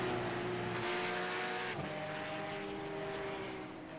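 Porsche Cup race cars in iRacing at Phoenix Road, a steady, loud engine drone with a sharp pitch change midway, like a shift or a car passing.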